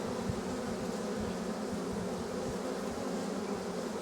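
Bees buzz steadily at a hive in a dense, continuous drone, close and fairly quiet, with no talk.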